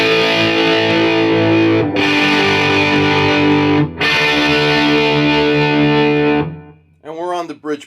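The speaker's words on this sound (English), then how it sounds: "this is the sound of my amp." Electric guitar on the bridge pickup through an amp, loud sustained distorted chords in three strummed sections that ring out, followed by a brief burst of voice at the end.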